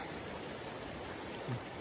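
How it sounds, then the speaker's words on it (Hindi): River water rushes steadily near Saif ul Malook lake in the mountains, a constant broad roar of flowing water close by with a brief low bump near the end. "ये दरिया का पानी आ रहा है"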